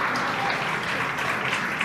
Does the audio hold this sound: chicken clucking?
no